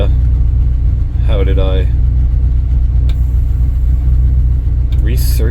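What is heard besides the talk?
1964 Ford Thunderbird engine idling down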